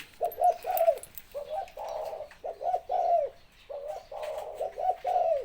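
A decoy dove calls in a repeated series of soft, rounded coos, close and clear, each phrase made of two or three quick notes with short pauses between, over a quiet background.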